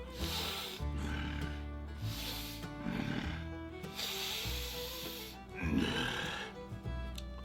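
A voice imitates a bear sniffing, with a series of loud, snorting sniffs repeated in quick bursts, close up.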